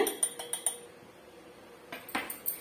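A utensil scrapes and clinks against a metal vessel as ragi batter is mixed, with a quick cluster of sharp taps, a pause, then another burst of knocks, close and fairly loud with no talking.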